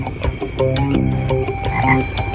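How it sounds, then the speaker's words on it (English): A tomato frog in Madagascar gives loud, close croaks that repeat in a steady rhythm with no voices over them. "including the tomato frog"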